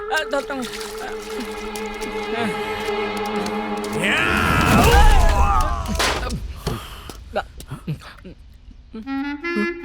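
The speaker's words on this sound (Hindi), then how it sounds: "खाना खा लिया ना तो लड़ने से पहले हाथ तो धो ले।" Water is poured over hands for washing in a Hindi film scene, a rushing splash that swells for a few seconds over a music background, followed by sharp sound effects.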